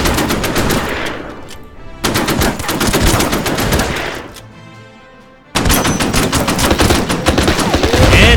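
Rapid machine-gun fire and gunshots crackle during an attack in the strategy video game Order of Battle: Burma Road, loud bursts that pause briefly before resuming.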